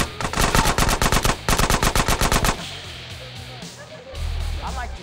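Automatic gunfire rings out in GTA San Andreas Definitive Edition: two quick rapid-fire bursts of close, loud shots, then a softer noisy stretch with a low rumble near the end.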